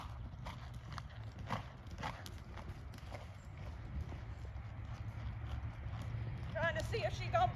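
A horse loping on a farm, its hooves beating in a steady rolling rhythm, close and fairly loud, with a brief whinny near the end and people talking over it.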